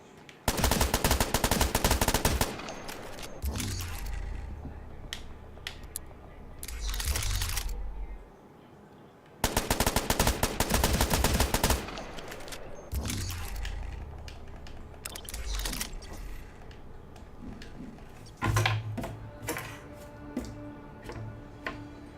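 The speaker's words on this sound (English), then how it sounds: "I want to check out the match trigger on this to see if it makes me shoot any faster" Full-auto gunfire in the video game Ghost Recon: Future Soldier: loud sustained bursts lasting a couple of seconds each, with two main long volleys separated by quieter stretches of game ambience and clicks.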